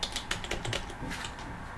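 Rapid, irregular keystrokes on a computer keyboard while entering Linux terminal commands, close and fairly quiet, a quick burst of clicks that thins out toward the end.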